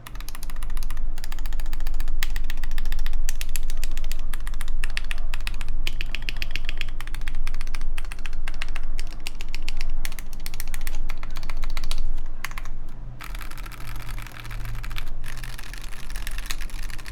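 Rapid, continuous keystrokes on a modded Wooting 60HE keyboard with foam and PBT keycaps, close and muted, tapping steadily throughout with no talking.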